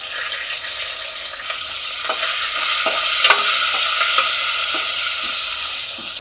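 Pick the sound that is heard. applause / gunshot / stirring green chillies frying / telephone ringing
stirring green chillies frying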